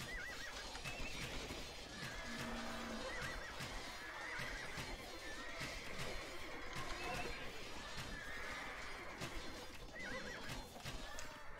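Age of Empires 2 cavalry fills a battle with constant horse whinnies and hoofbeats, layered under clanging combat noise, steady and crowded throughout.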